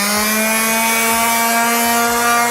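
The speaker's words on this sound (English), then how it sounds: "And it's time for a little sanding." A steady, loud electric motor whine with a continuous abrasive hum, like a power sander running on wood.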